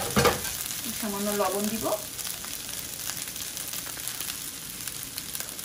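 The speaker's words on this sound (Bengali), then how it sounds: "এবার চিড়াটাকে একটু ভেজে নিব।" Flattened rice (chira) frying in a pan while being stirred for chira pulao, a steady close sizzle with soft scraping. A voice speaks briefly near the start, and the frying continues alone afterward.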